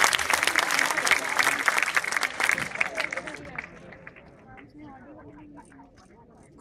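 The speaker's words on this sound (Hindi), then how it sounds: "एक बार शशिकांत के लिए जोरदार तालियां बजाएं।" An audience at a Hindi poetry reading breaks into vigorous clapping that holds for a few seconds, then tapers off. A voice begins speaking as the applause fades.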